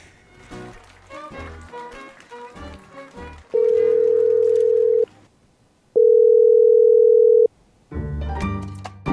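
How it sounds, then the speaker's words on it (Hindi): A phone call that goes unanswered: two long, loud, steady ringback tones, separated by silence, with other sounds before and after the tones. "फोन नहीं उठा रही"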